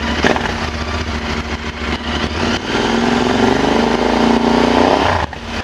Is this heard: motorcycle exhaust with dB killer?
yes